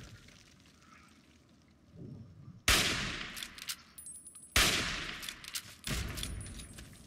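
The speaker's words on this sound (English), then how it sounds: "He's shooting wildly now." Fallout 3 gunfire: two loud, sharp shot bursts with ringing tails and a third softer one, spaced a couple of seconds apart over a low rumbling ambience, no talking.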